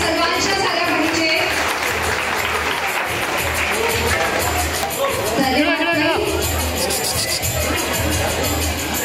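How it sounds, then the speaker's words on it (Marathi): At a hotel inauguration ceremony, a crowd gives loud, sustained applause that fills the whole stretch, mixed with babbling voices and talk. "जरा जोरदार टाळ्या सर्वांच्या झाल्या पाहिजे"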